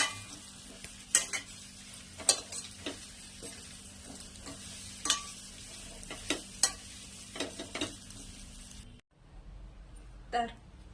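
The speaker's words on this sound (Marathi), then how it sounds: "छान तेलात फ्राय करून घ्यायचे आणि आता यात वड्या घालूया" Sliced vadis made from mixed leafy greens sizzle steadily in hot oil with spices. A spoon or spatula clinks and scrapes against the pan at irregular intervals, then the frying drops almost to quiet near the end.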